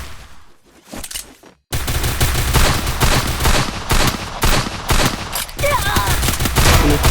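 Rapid gunfire from a Free Fire video game match, including M500 shots, loud and dense after a quieter opening, with bursts of shots and layered effects throughout.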